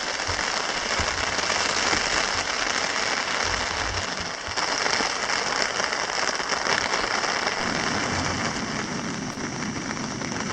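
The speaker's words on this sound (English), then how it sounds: "The sun is shining and it's raining" Steady rain patters and hisses on a surface at Wood Lake in the Boundary Waters on a sunny June afternoon, a dense continuous wash of drops heard close and alone throughout.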